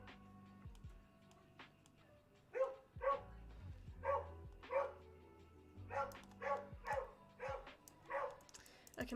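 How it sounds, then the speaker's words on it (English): A pet dog barks repeatedly and loudly in a home setting, a series of sharp barks in uneven bursts while a person talks quietly in the background. "my dog is barking very loudly"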